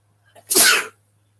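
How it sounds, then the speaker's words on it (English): A single sharp sneeze, close and loud, preceded by a short faint intake of breath and then followed by silence. "I gotta sneeze"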